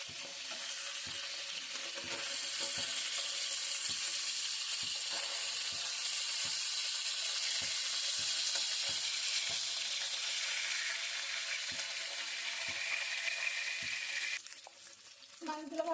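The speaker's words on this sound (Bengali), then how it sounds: "মাছগুলো দিয়ে দিচ্ছি। এখন এপাশ ওপাশ করে ভেজে নেব।" Koi fish fry in hot oil in a frying pan, a loud, continuous close sizzle with regular small ticks and pops, easing off sharply near the end.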